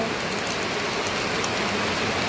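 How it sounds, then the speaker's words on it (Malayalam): Heavy rain pours steadily and densely, a loud continuous hiss of drops with no break and no voices. "ഇവിടെ അത് മാത്രം നല്ല മഴയുണ്ട് കേട്ടോ."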